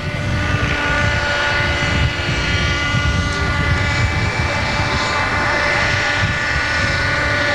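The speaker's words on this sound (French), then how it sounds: "suivez bien l'hélicoptère qui se trouve maintenant à la verticale du terrain" Helicopter flying high over the airfield at a 1981 air show in Yverdon, a steady droning rotor and engine rumble that stays loud and continuous throughout, with no talk over it.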